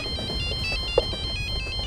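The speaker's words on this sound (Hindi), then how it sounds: "पका दिया इस आशीष ने मुझे फोन करके।" A repeating electronic phone ringtone melody plays steadily over a low background rumble, with no talking.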